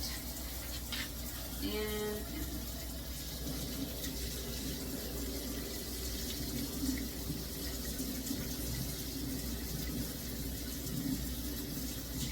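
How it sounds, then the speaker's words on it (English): Hot water poured from a pot through its strainer lid into a sink while cooking chicken pot pie, a steady moderate gushing stream with a brief clatter early on. "And don't fully drain it."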